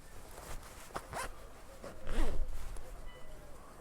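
The zipper of a winter trekking jacket is pulled up in a few quick rasping strokes, close and fairly quiet, with a brief louder zip in the middle.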